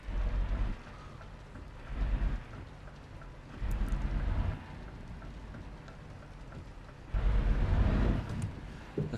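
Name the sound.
rain in a truck driving video game (UK Truck Simulator)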